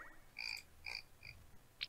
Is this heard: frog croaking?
yes